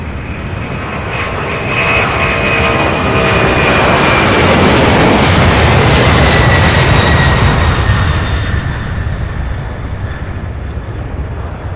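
A large aircraft, likely a cargo jet, takes off at Louisville airport, its engine roar building into a loud, sustained rumble with a rising whine as it climbs away, with no voices over it.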